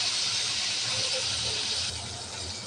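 Shrimp fry in a pan with a steady, bright sizzling hiss that stays loud and even, then drops slightly softer toward the end.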